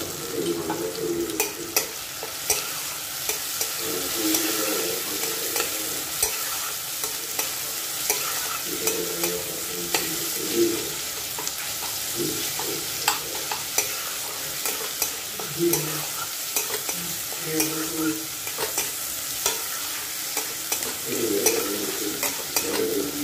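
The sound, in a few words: chopped ingredients frying and being stirred in hot oil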